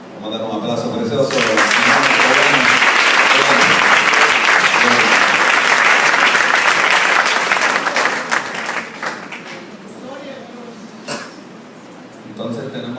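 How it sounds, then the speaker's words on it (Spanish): A church congregation applauds during a worship service, loud sustained clapping for about eight seconds that fades into scattered claps, a few coughs and a voice beginning to speak. "Vamos a dar un aplauso precioso"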